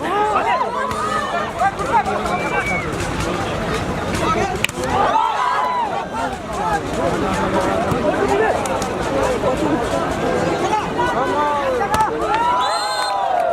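Spectators hoot, whistle and cheer loudly and continuously at a close volleyball final-set match, a dense crowd roar with rising calls and shouts throughout, while a commentator talks over it.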